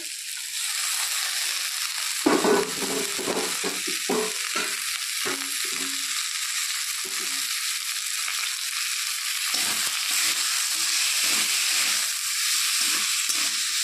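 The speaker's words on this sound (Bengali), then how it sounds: "আলুটাকে একটু ভাজতে হবে। এখন এর মধ্যে দিয়ে দেবো শাকগুলো।" Potatoes and leafy greens fry in a pan with a loud, steady sizzle and hiss throughout, broken by stirring scrapes and crackles, close up and with no talk.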